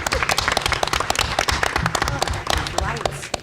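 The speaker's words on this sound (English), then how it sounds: "Another round of applause" An audience applauding at the Florida Film Festival in Orlando, loud and close, with sharp, dense, irregular claps and crowd voices mixed through the clapping.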